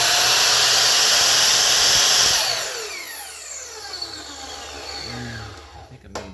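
A power tool cuts through the chassis of an RC car with a loud, close, steady whine, then winds down with falling tones over the last few seconds.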